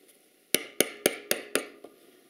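A hand chisel driven into pine to chop out waste in small bites, six sharp close strikes at an even pace, with the last one lighter.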